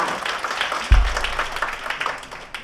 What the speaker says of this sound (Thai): ขอเสียงปรบมือให้กับทั้งสองครอบครัวอีกครั้งหนึ่งค่ะ